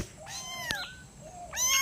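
Small kittens cry with thin, high-pitched mews, several plaintive calls in quick succession, close and fairly clear.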